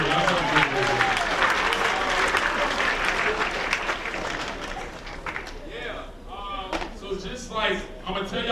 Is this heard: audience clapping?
yes